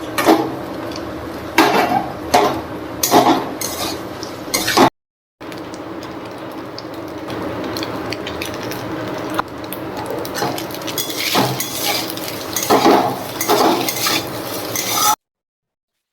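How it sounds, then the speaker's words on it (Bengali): Pasta goes into a pan and is stirred with a utensil while it cooks, giving repeated scraping and clattering strokes against the pan over a low sizzle, with a short silent break partway. "এখন পাস্তা গুলো দিব।"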